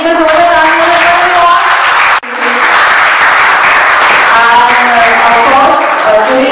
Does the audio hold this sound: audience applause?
yes